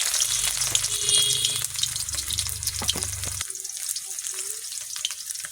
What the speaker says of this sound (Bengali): কড়াইতে কালকে তেল ছিল কালকে রাত্রিবেলা এই লুচি ভেজালাম এই তেল গরম হয়ে গেছে পেঁয়াজ দেবো